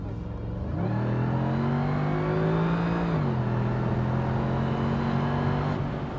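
Mercedes SLR coupe engine under way, a deep smooth hum that rises in pitch as it accelerates, holds, then drops to a lower steady tone, fairly close with road and wind noise beneath.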